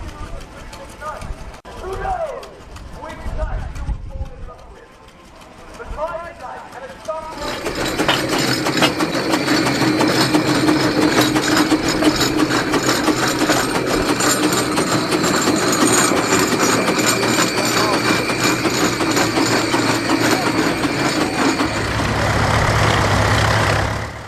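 Farm tractors move off toward the main ring for a parade at the Carrington Roundup show, a loud continuous engine rumble and clatter after several seconds of quieter crowd talk, with voices carrying on beneath the running engines.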